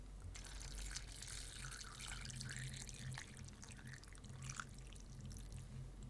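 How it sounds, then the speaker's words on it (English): Hot, cloudy shrimp ramen broth pours steadily into a bowl, a close, continuous splashing trickle with small drips, fairly quiet, with no talking. "Let me go ahead and pour some of this in there."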